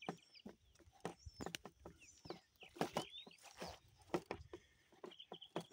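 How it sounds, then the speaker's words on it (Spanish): Faint outdoor birdsong by a lagoon: scattered chirps and short whistles mixed with clucking calls, along with sharp irregular taps and knocks, heard at a distance with no talking. "Oigan, oigan los pajaritos."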